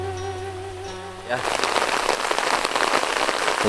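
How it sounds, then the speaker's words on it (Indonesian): Heavy rain bursts on around a small hut standing in rice fields, a dense, loud hiss of drops that swells in after a quieter opening with a low hum and stays steady to the end. "Hujannya makin lebat."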